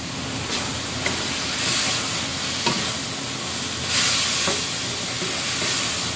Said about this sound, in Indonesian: Saya aduk-aduk lagi.